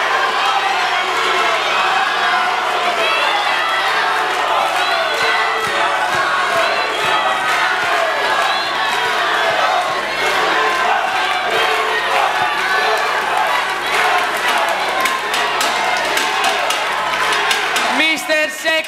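Live audience at a Mr. Sexy pageant shouting and cheering loudly and continuously, a dense roar of overlapping voices calling out contestant names, with a sharp burst near the end.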